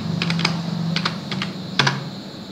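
Keystrokes on a computer keyboard while entering data in Tally accounting software, a few quick clusters of clicks separated by short pauses, close and clear over a low steady hum, with no speech.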